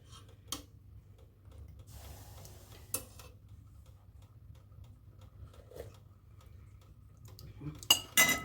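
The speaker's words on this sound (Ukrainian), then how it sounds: "І на цьому етапі ще ось помішаю." A spoon stirring borscht in a cooking pot, making a few scattered metallic clinks and scrapes that sit far apart in a quiet kitchen, ending in a short cluster of louder knocks, with no talking.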